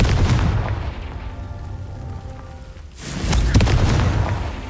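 The Confringo explosive spell in the Hogwarts Legacy video game: a rumbling ambience goes quiet before one heavy booming blast erupts near the end and rolls on loudly.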